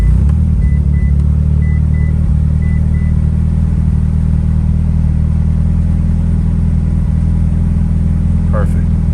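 Fully built 700hp flex-fuel Mitsubishi Evo 9 engine running at a steady idle, a loud continuous low rumble heard up close throughout, with a faint high whine near the end.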